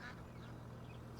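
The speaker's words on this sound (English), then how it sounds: "There's like ducks in the stream or something up here." Ducks quacking by a stream in Farming Simulator 25, a brief soft call over a steady low ambient hum with no talking.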